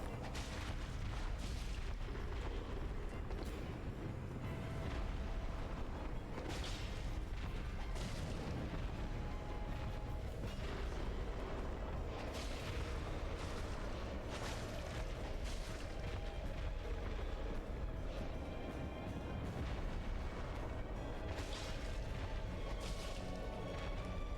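Explosions in the Dark Souls video game, a dense, continuous run of booming blasts and bursts across the whole stretch, loud and layered over game music with no talking.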